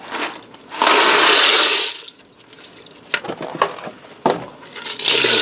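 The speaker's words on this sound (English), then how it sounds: "And I have a 16-ounce box of shell pasta. I'm going to dump this in." Dry shell pasta from a 16-ounce box pours into a Ninja Foodi pressure cooker pot, making a loud, dense rattling rush of about a second, then scattered clinks and clatters of shells settling, with a second loud burst at the end.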